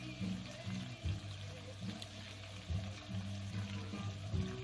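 Water poured from a bucket into a planted bow-front aquarium, a steady splashing trickle with gurgling pulses, fairly faint and close, no talk.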